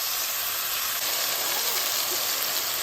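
Onions sautéing in hot oil for an egg vada curry, giving a steady, even hiss and sizzle close by with no talking.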